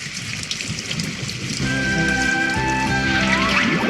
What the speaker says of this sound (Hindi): देखो अब तो बारिश भी शुरू हो गई